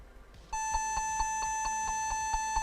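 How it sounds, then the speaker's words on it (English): A Compaq Presario F500 laptop sounds a repeating series of short, loud electronic beeps at startup, roughly five per second, clear and close with no talk over them. "Oh, it's beeping again."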